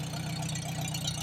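A Farmall H tractor engine running with the choke partly closed and the carburetor in need of cleaning. It gives a steady, close, low droning rumble with a faint squealing edge and no talking.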